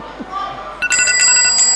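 A contestant's signal bell rings at a live business quiz finale, a bright sustained electronic ring that starts partway through over faint hall murmur and crowd chatter.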